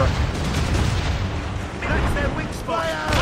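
Heavy, rumbling ship cannon fire at sea in the video game Assassin's Creed Rogue, booming blasts layered over a continuous loud din with a voice speaking over it.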